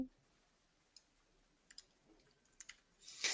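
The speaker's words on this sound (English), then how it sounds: "So I'm typing hello Patricia" Sparse, faint key clicks from typing on a computer keyboard during an online training session, a few isolated taps over near-silence, ending in a louder burst of noise.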